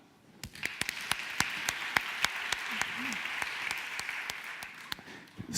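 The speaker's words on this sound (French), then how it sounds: "Je vous demande d'applaudir une nouvelle fois toutes les boîtes qu'on a vues ce matin." A conference audience gives a round of applause for startup companies: sharp, scattered hand claps over a soft wash of clapping, fairly distant and quiet, lasting several seconds.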